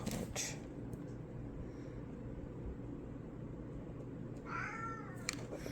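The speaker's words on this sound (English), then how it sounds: "My kitty wants to be involved in the story." A cat meows faintly a couple of times against a steady background hiss.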